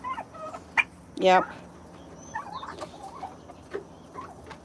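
Chickens and turkeys calling in a backyard flock, with a loud burst of gobbling near the middle and scattered clucks and chirps around it, a brief spoken word also heard.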